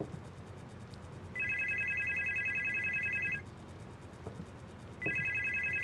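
A telephone rings in the horror game Supernormal, an electronic trilling ring lasting about two seconds, a pause, then the ring starting again, moderately loud over a quiet background.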